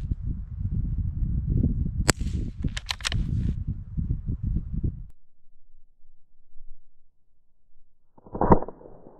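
A .22 LR rifle fired at a moose target outdoors gives one sharp, brief crack, with low rustling and movement before it and a second faint snap near the end.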